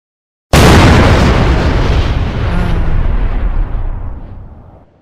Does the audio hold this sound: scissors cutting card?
no